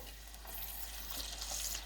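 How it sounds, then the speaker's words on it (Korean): Seaweed laver snacks fry in hot oil, giving a soft continuous sizzle with faint bubbling that swells slightly toward the end, fairly quiet and without speech. "바로 이어서 또 튀길 거예요."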